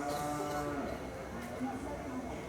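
A cow in a cutting-horse arena gives low, drawn-out moos that sound fairly faint and distant against steady background noise.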